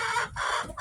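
A hen clucks in short, close bursts, a couple of throaty calls within a second, loud and alone.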